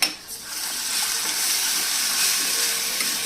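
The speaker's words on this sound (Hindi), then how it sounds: "इसमें हम डाल देंगे दही और बेसन का घोल" Yogurt and gram flour batter poured into hot spices for kadhi, giving a steady close wash of hissing sizzle and liquid splashing with no pauses.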